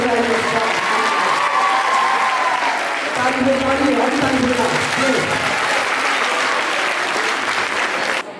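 Sustained, dense applause from a large audience at a community gathering, loud and steady throughout, with a faint voice murmuring underneath.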